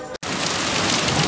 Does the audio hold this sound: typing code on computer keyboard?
no